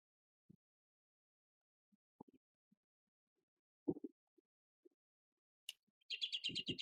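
Keyboard typing that comes across as birdlike chirps: a few sparse, faint clicks, then a run of quick, bright, tweeting bursts near the end, with a voice briefly underneath.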